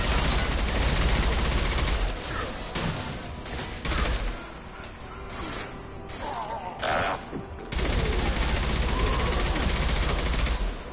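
Dense sustained gunfire rattles almost continuously in Mass Effect 2 combat, loud and close, with short lulls before the shooting resumes.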